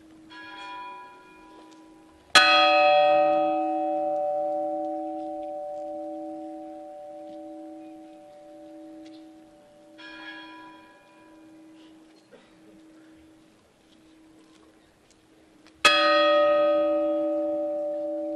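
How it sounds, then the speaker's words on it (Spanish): Large church bell called la golondrina ringing during Holy Week in Zamora, three widely spaced loud strikes, each ringing out with a long shimmering decay, while a smaller steady tone hums underneath. "escuchamos la golondrina, la campana grande de la golondrina"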